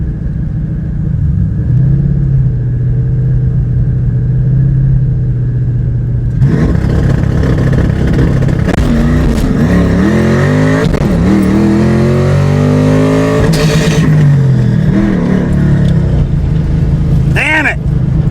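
A drag motorcycle with a new clutch idles steadily, then launches on a pass with a sudden loud roar, its engine note climbing sharply through gears at close range.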